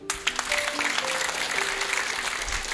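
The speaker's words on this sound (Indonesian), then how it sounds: "Tepuk tangan." A church congregation claps during a sermon, a full, lively round of applause carrying evenly across the moment, with faint tonal background sounds beneath.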